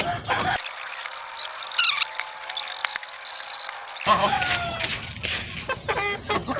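Chickens and young chicks on a small poultry farm cluck and peep steadily, with brief crowing-like calls among the flock, while feed is being mixed nearby.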